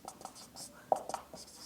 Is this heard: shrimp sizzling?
no